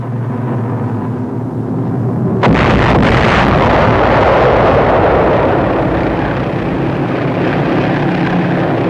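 A heavy bomb blast erupts in 1945 wartime newsreel footage of fighting in Germany, a sudden loud boom that rolls into a long, sustained roaring rumble lasting several seconds.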